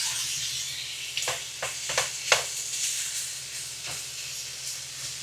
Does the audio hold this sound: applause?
no